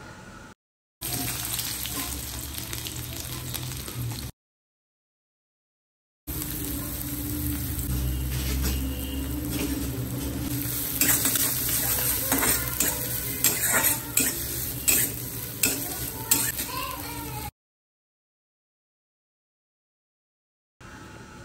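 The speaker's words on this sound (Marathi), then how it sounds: "लाल तिखट, हळद, धणा पावडर, हिंग आणि मोहरीचा तडका दिलेला आहे" Onion, garlic, red chili powder, turmeric, coriander powder, asafoetida and mustard seeds crackle and sizzle steadily in hot oil for a home-cooked pea vegetable dish. The loud, continuous frying hiss comes with light stirring clatter, broken by two silent gaps.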